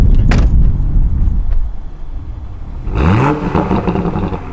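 A 2020 Toyota Supra engine revs up sharply near the end, pitch climbing fast and loud, after a stretch of rough idling and handling noise, recorded outside.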